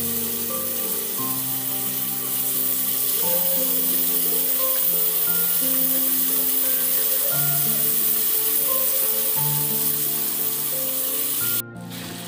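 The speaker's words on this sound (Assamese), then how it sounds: "এইখিনি এনেকৈ অলপ ভাজি লৈছোঁ।" Chopped tomato and peas frying with cumin and red chilli in a pan make a steady, even sizzle that runs close and unbroken for several seconds. A faint background tone sits under it, with a sharp break near the end.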